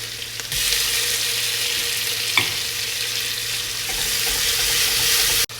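Onion, garlic, ginger and tomato fry in a pan for chicken machboos, giving a loud, steady sizzle close by with a brief stirring clink, then stopping abruptly, with no voices.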